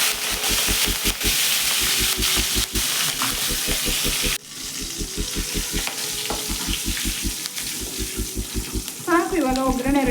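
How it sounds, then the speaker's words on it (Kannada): Steady sizzle and hiss as a handful of fresh curry leaves crackle in hot oil for a tempering, cooked for peanut chutney powder; rhythmic background music with a pulsing beat plays underneath throughout. "ಹಸಿ ಕರಿಬೇವು ಹಾಕೋತಾ ಇದ್ದೀನಿ"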